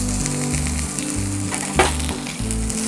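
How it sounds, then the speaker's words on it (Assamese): Onions sizzle and fry steadily in oil in a pan over medium heat, a continuous crackling hiss that stays loud and close throughout, with low background hum beneath and no talking. "পিঁয়াজ দিলোঁ"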